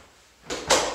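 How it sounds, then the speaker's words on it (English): A door with a resistance band looped around its doorknob shut firmly, giving two quick thuds close together, the second louder, with no talk. "shut the door"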